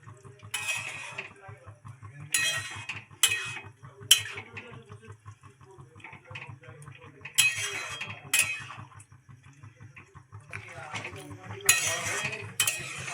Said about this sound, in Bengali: গাজরটা এইভাবেই কন্টিনিউয়াস নাড়তে থাকবো যতক্ষণ না দুধটা আস্তে আস্তে ঘন হয়ে আসছে